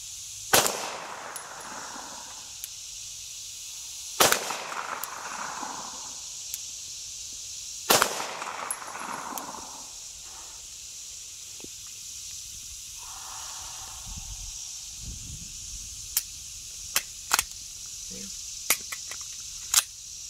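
A handgun fires five rounds one-handed at 25 yards on a shooting range, sharp distinct cracks at irregular spacing, fairly near but muffled, with a voice speaking quietly between shots.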